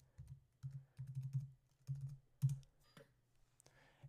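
Quiet, close keystrokes on a Mac keyboard as a password is typed, coming in short bursts of soft clicks separated by brief pauses.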